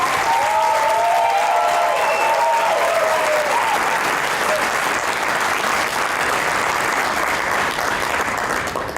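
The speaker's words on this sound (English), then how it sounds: "So a big round of applause for our staff, led by Crystal and Ines." Sustained applause from a graduation ceremony audience, a dense, steady wash of clapping that fills the hall for several seconds, with faint voices and a few whoops riding on top early on before it gradually thins.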